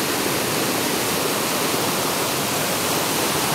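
Clean spring-fed river water rushes in a steady, dense wash with no breaks, loud and close, with no voices.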